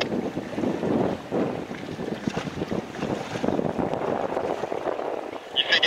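Steady wind roars across the microphone while sailing near a committee buoy during a race with J80 boats, broad and continuous with gusty surges and some water wash underneath.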